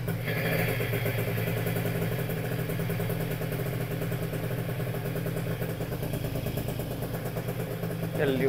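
A Piaggio Zip two-stroke scooter engine idles steadily close by after being started, a continuous buzzing drone that holds even throughout, with a faint clatter on top.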